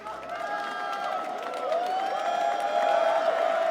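Crowd at the EVO 2025 Granblue Fantasy Versus Rising grand finals gives off a steady, loud roar of cheering that builds slightly, with no clear talk over it.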